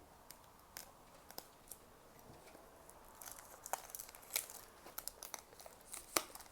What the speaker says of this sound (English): Take our trusty little X-Acto and let's have a little slice and dice.